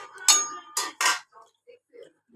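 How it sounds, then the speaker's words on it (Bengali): A metal lid is set on a cooking pot of vegetable curry with drumstick and pumpkin, giving three close, bright clanks in quick succession followed by faint small clicks. "এবার আমি ঢাকনাটা দিয়ে দেবো"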